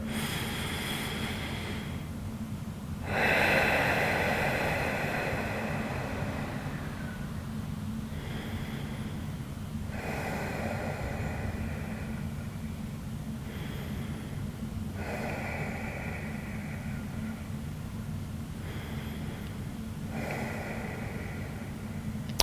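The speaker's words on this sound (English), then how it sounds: "you know you're breathing deep when you can feel a pause between the in-breath" Slow, deep breathing during a quad stretch: rhythmic, breathy inhales and exhales repeat every few seconds over a steady low background hum.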